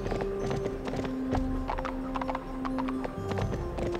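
Horse galloping in the video game Barbie Horse Adventures: Wild Horse Rescue, a steady rapid clip-clop of hooves with a sustained tonal game background, moderately loud and continuous with no talk.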